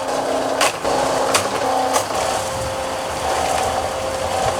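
A concrete mixer churns aggregate, sand and Portland cement for a home foundation, giving a steady mechanical hum with a few louder knocks and clunks as the drum turns, close by and without talking.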